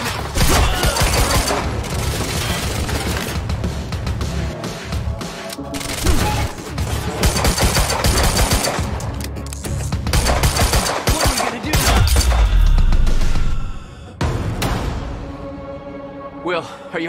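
Sustained automatic gunfire from armed men in Quantum Break, dense and loud bursts rattling almost continuously for most of the stretch, with heavy impacts and crashes mixed in and voices shouting over the din.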